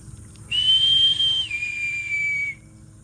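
A person whistles to monkeys in a mangrove forest near Quepos, imitating a harpy eagle call: one sustained clear high whistle that holds steady, then steps down to a slightly lower pitch and stops abruptly, loud against quiet background.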